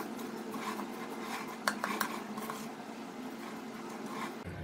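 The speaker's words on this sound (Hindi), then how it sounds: "अब हम इन्हें अच्छी तरह मिक्स कर लेते हैं।" A spoon stirs a panjiri mixture with cardamom powder in a pan, soft scraping and stirring with a few sharp metallic clinks near the middle, quiet and close.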